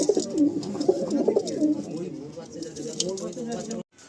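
Andhra pigeons coo steadily in a loft, soft throaty rolling calls layered close together while people talk over them, cut off abruptly near the end.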